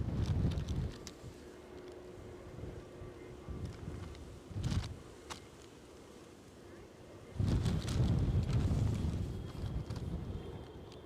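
Strong gusts at Edinburgh airport rumble and buffet the microphone in surging bursts, rising and falling over a faint steady background, with a brief voice heard between the blasts.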